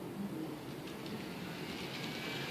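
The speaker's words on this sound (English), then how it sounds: "I had to get a train out and run it because I hadn't ran one in a while" A small N scale model train runs on Kato Unitrack, giving a steady, soft whirring and rolling noise throughout with no voices.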